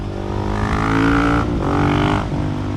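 A Husqvarna 701 Supermoto motorcycle engine accelerates hard and loud, rising in pitch, briefly dropping as the gear changes, then climbing again close by.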